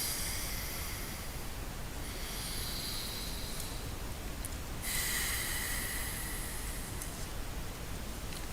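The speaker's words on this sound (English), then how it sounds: "you breathe in through one nostril, you hold the other, you block the other, and then you change the finger and you breathe out" Slow, soft breathing through the nostrils during alternate nostril pranayama, with hissing airflow swelling for a few seconds, pausing, then returning, close and steady with no talking.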